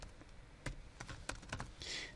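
Quiet, irregular clicks of typing on a computer keyboard, a handful of sharp keystrokes spread across two seconds with no talk.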